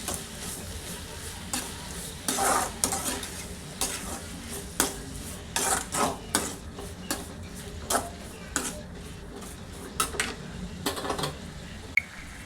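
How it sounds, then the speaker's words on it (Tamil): Tomatoes sauté in hot oil in a pan for ridge gourd gravy. A steady soft sizzle runs under repeated scraping stirs of a spoon against the pan, close and with no talk. "கட் பண்ணி வச்ச தக்காளி போட்டணும் நல்லா தக்காளியும் போட்டு அந்த எண்ணெயிலே வணக்கணும்"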